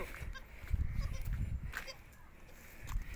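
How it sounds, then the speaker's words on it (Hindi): Goats on a goat farm in Rajanpur, including a doe with two kids, with soft bleats heard among low farmyard rumble and brief voices, moderately near. "ये 2 बच्चे हैं इस बकरी के"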